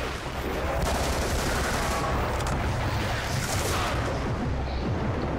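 Gunfire in Call of Duty Black Ops 2, Mob of the Dead mode, forms a dense, continuous roar of rapid shots at loud, steady volume, with layered game noise throughout.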